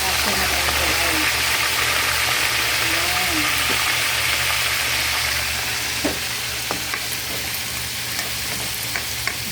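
Pork sautéing in a pan alongside fish, a steady loud sizzle and crackle that eases slightly later on, with a few sharp clicks of a utensil near the end.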